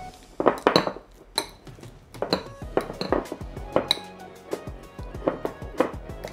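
Softened cream cheese and butter are mixed together in a bowl, with a utensil clinking and tapping against the sides in an irregular series of close, sharp knocks.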